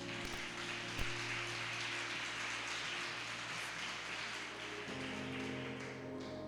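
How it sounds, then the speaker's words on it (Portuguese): A church congregation applauds during a worship service, a steady dense patter of many hands clapping together, fairly even and moderately loud, with a low sustained musical drone underneath. "Você pode aplaudir o Senhor?"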